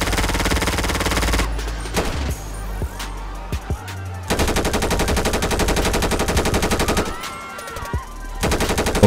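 Automatic gunfire from the video game GTA 5, played on PC in a prison mod, rattles in dense loud bursts with a short gap of scattered single shots and a pause before the firing resumes.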